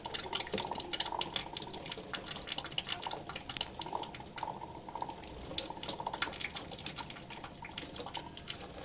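Water runs through an Ortmax water purifier filter during its flush cycle, a steady stream with light dripping and splashing that holds at an even level throughout, with no talking.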